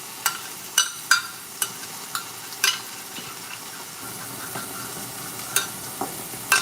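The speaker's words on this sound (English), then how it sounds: "Y'all hear that sizzle?" Ground meat sizzles in a pan while being cooked for lasagna, a steady frying hiss with scattered sharp clicks and taps of a utensil against the pan throughout. There is no talking.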